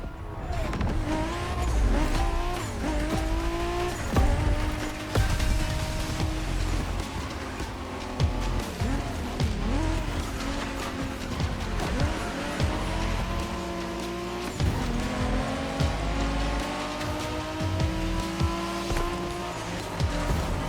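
Racing cars in The Crew Motorfest's Made in Japan playlist, engines revving and shifting continuously with tire squeals and passing whooshes, loud and sustained throughout with no talk.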